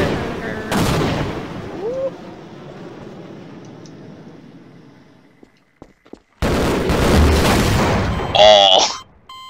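Half-Life: Source combat, with a loud burst of gunfire and booms, a quieter stretch, then a sudden heavy explosion roar followed by rapid crackling fire, and a voice shouting early on.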